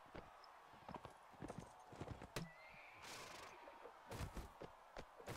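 Horse hooves clopping in Mount and Blade: Warband, a rapid run of irregular thuds with a neigh partway through, faint and mixed with other game noise.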